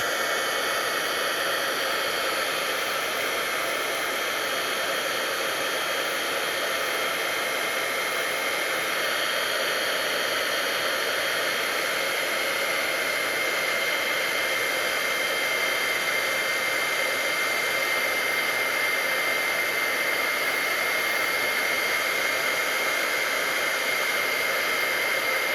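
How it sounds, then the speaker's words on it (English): Embossing heat tool blowing hot air over powder on a handmade card, a loud steady broadband whoosh that runs unbroken and close for the whole stretch. "we're just going to apply our heat tool to set this"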